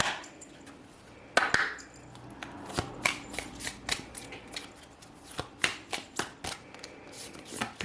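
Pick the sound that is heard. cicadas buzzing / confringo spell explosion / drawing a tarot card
drawing a tarot card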